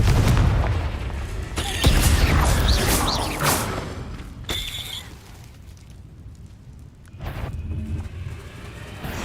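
A Confringo explosive spell blast in the Hogwarts Legacy video game, a loud deep boom with crashing debris that rumbles and fades over several seconds, followed by further thumps and layered game effects.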